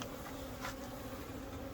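Honeybees buzz around an open hive during a colony inspection for swarm cells, a continuous close, steady drone that stays faint and even throughout.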